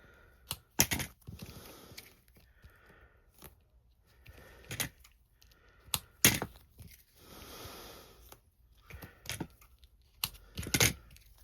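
Short crisp snips and crackling tears come in separate bursts with quiet gaps, as titanium-coated scissors cut through sticky foam tape close up.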